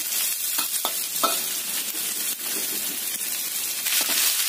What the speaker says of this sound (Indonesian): Kita tumis bawang putih dan bawang merahnya.